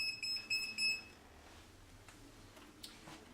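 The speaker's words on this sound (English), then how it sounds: "Flashing red, beeping, indicates the power is on." A voltage tester emits a rapid series of high, sharp electronic beeps in quick bursts for about a second, signalling a live circuit, then only faint background noise.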